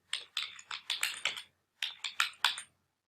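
Typing on a computer keyboard while entering a domain name during web hosting signup, two quick bursts of crisp key clicks separated by a short pause, close and clear with no talking.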